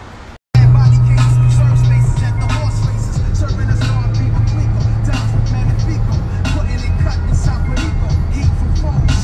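A car pulls away for the drive to another garage, its engine a steady, loud hum that runs for several seconds close by, with faint voices underneath.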